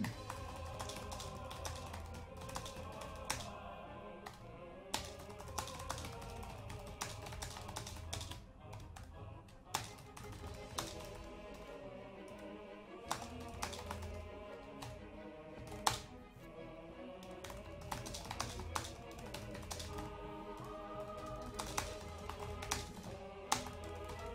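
Steady bursts of clicking keystrokes as a chat message is typed on a computer keyboard, close and moderately quiet, running under continuous background music with brief pauses between phrases.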